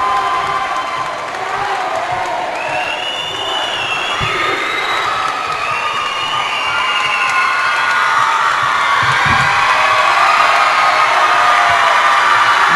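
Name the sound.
crowd cheering at girls volleyball state championship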